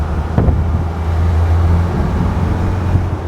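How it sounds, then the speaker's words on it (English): A 1998 Land Rover Defender 110 Hi-Cap with the 300Tdi diesel and five-speed gearbox accelerates, its turbo spooling over a loud, steady low engine drone heard from inside the cabin. "You can really hear the turbo spool as it starts to accelerate."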